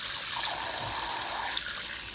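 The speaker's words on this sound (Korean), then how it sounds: "따뜻한 온기와 함께 물소리를 들려줍니다." Water trickles and flows continuously during a spa ear treatment with warm water, a soft, close, steady gurgling wash with faint splashes and no voices.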